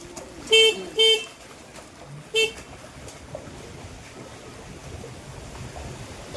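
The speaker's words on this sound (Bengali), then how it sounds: "হর্নটা বাজাও।" A vehicle horn honks three times while driving through Ghatal floodwater: two quick blasts close together, then a third after a short pause, over a low background of engine and water.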